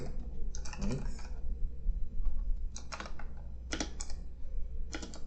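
Computer keyboard typing while writing code in Visual Studio 2019, irregular clusters of quick key clicks over a low hum, close and fairly clear.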